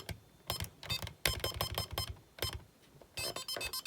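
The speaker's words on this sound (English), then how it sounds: "When it beeps like that and it shows HHH, it's correct" Electronic beeping from a Radio Shack Brain Drain handheld game, in bursts of rapid tones with brief gaps between them, close and fairly quiet.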